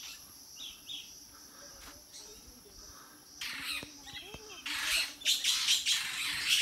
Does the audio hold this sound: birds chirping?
yes